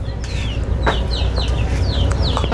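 Chickens cluck repeatedly in an outdoor Thai farmyard, a run of short chirpy calls close by over constant rural background noise.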